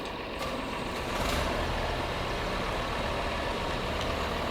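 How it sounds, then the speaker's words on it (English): A truck engine in Farming Simulator 22 runs at a steady idle, producing a loud, continuous low rumble with no talking. "Start the engine, of course."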